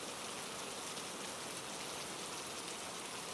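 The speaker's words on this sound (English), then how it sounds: "the rain tapping softly against the windows" Steady rain tapping softly against windows, a dense continuous patter with no gaps, fairly quiet and even throughout with no voices.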